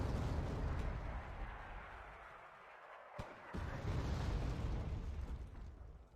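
Mortar barrage in the war strategy game Wargame: Red Dragon: a dense, continuous rumble of distant explosions with one sharper blast in the middle, no talking over it.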